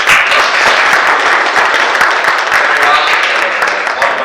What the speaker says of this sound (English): Can we give a big round of applause?